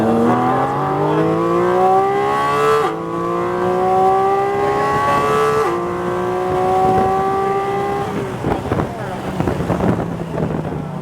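A Porsche GT4 RS races on a track, its engine pitch climbing steadily through several upshifts with brief dips between gears, loud and close inside the cabin, then breaking into rougher burbles as it comes off the throttle.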